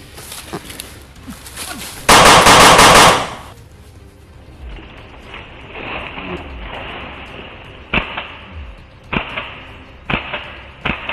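Heavy gunfire in a video game: a loud, dense burst of shots early on, followed by sharper isolated cracks and pops spaced through the rest, with faint voices underneath.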